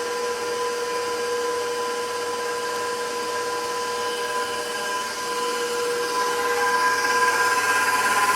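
Electric stand mixer beating soft pretzel dough, producing a continuous, even motor whine with a steady hum close by, constant throughout with no voices.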